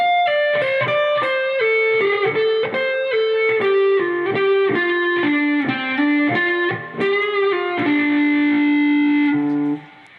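Distorted electric guitar plays part 11 of a solo at a slow pace, a steady run of separately picked notes stepping downward and ending on a long held tone, close and alone.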